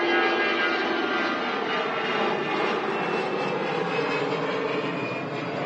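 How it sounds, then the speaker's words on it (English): A Lufthansa Airbus A319 rotates on takeoff at Manchester Airport, its engines giving a loud, sustained buzzsaw roar that holds steady, with no voices over it. "Lufthansa A319 just rotating there."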